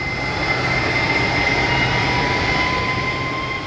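Steady, loud jet roar from a Cessna T-37 jet trainer at a military pilot training base, a continuous whine with high engine tones holding constant throughout, no voices.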